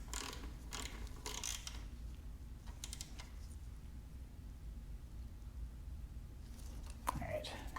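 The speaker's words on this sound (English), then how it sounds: "Go ahead and tighten this up the rest of the way." Metal clicks and ratcheting as a bolt is tightened down on a new oil pump for a Yamaha FZ motorcycle, faint and close, arriving in short irregular bursts over low background hum.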